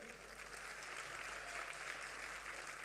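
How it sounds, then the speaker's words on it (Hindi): An audience at a comedy evening during the Kanpur Dehat Mahotsav breaks into steady, dense applause that holds at an even level, filling the space without any pauses. "अगर सुनने के मूड में है तो ताली बजा दीजिए।"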